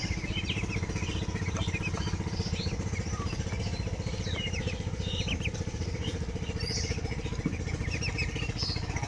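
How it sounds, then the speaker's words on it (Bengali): A boat engine putters steadily on a river, a continuous low rhythmic chugging heard from a moderate distance, with faint birdsong over it throughout. "নদীতে নৌকা যেতেছে"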